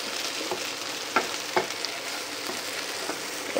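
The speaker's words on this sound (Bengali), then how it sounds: "তো দেখো আমার কাঁচা টমেটো ভাজাটা এরকম হয়েছে, এখনও ভাজা হবে" Green tomatoes fry in a pan with a steady, close hiss of sizzling oil, broken by a few sharp pops and spatters.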